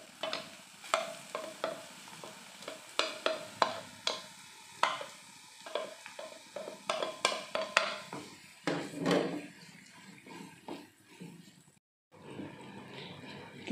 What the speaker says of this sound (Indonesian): Bawang putih dan bawang merah yang sudah kita chopper ya, kita goreng dulu.